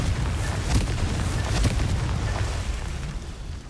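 A Confringo blasting spell explodes in the video game Hogwarts Legacy, a loud, dense rumbling boom that rolls on for several seconds and slowly fades, with no talking over it.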